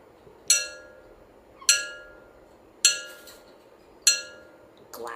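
A glass object is tapped four times at steady intervals, each strike a clear, ringing chime that decays slowly over a quiet background.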